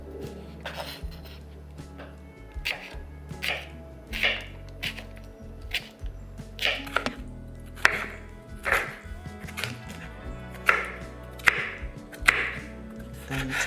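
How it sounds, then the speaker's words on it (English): A knife chops cucumber and tomatoes on a cutting board in a steady series of crisp, close taps, with no talking. "And then cut up a cucumber and the tomatoes"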